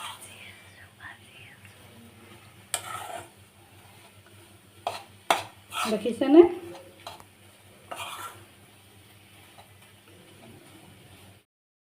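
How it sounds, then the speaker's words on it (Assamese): Maida flour is stirred in a pan over medium heat for halwa, giving soft scrapes and a few louder clanks of spoon against metal, with a faint sizzle underneath and a brief quiet spoken remark. "এয়া আমি ময়দাখিনি লৰাই আছোঁ।"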